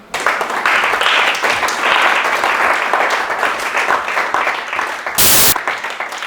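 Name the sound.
congregation applauding to acclaim the Lord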